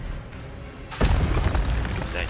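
Expelliarmus spell cast in Hogwarts Legacy, a single sudden booming burst that leads into a loud, sustained crackling rush of magic effects, with faint game sounds beforehand.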